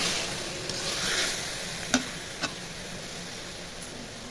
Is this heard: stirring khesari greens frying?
yes